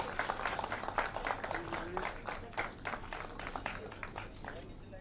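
An audience claps steadily to welcome the chief minister onto a stage at a public event, moderately distant applause that continues evenly for several seconds.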